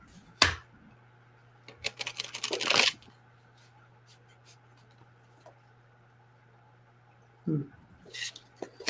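Cards are shuffled during a livestream, with a quick riffle at the start, a longer rattling shuffle a moment later and another brief burst near the end, separated by near-silence.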